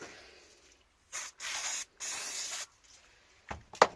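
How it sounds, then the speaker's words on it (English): Brake cleaner sprays onto motor scooter parts from a Honda NH 80 Vision Lead Aero in three short hissing bursts, separated by pauses, followed by a couple of soft clicks and a small squeak. "I've got some electrical cleaner. Oh, brake cleaner, that'll do."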